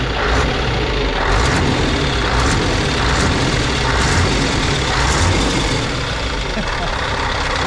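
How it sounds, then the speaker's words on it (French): A Scania V8 truck engine with a small exhaust leak idles steadily nearby, a loud, constant rumble with faint rhythmic ticking throughout. "j'ai une petite fuite à l'échappement"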